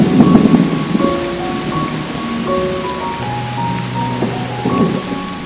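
Heavy rain pouring in the Kodagu hills, a dense continuous hiss of drops on surfaces with low rumbling swells of thunder, loud and close with no voices.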